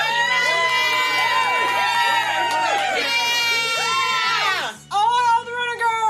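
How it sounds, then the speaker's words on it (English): A crowd roars and cheers loudly with excited shouts and screams layered over one another, a dense sustained din that dips briefly near the end before surging back. "the crowd roared with more applause and cheering ensued"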